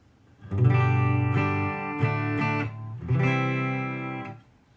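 Clean notes from a Fender Player Acoustasonic Telecaster's standard Tele pickup through an acoustic setting, bright acoustic-like tone, a sustained note followed by several plucked notes and a final ringing chord.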